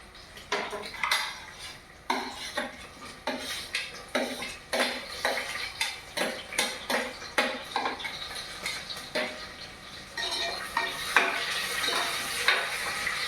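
Sliced onions and green chillies for mutton biryani frying in a pot, with rhythmic scraping and clinking from a stirring utensil over a soft sizzle, close and steady.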